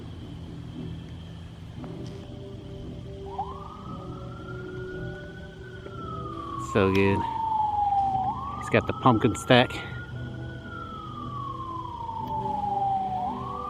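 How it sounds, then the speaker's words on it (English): A wailing emergency siren rises and falls in slow sweeps in the distance behind a Halloween yard haunt in Northeast Ohio, with people talking briefly over it. "the sirens in the background just kind of add to the apocalyptic theme here"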